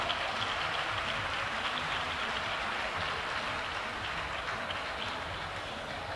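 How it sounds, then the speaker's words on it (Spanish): Audience applause at a queen's coronation ceremony for a town fair and festival, a steady dense wash of clapping held at an even level for several seconds, fairly distant, with no voices over it. "Aplauso también para ellos."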